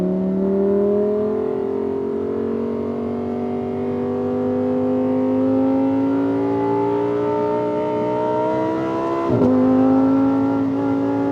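An Audi R8 V10 Spyder engine climbs in a long, steady rising wail, then drops sharply at a gear shift and starts climbing again, loud and close throughout.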